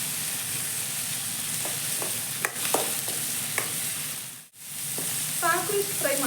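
Tomatoes fry in a pan until soft, with a constant close sizzle, several sharp spoon clicks against the pan and a brief dip near the end before the frying resumes.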